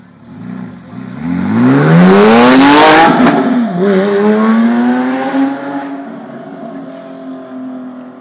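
A 2010 Porsche 911 GT3 RS flat-six revs hard as it sweeps past, rising to a loud peak near the middle of the pass and then fading with a falling, harmonic engine note.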